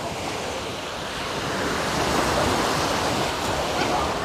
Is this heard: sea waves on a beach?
yes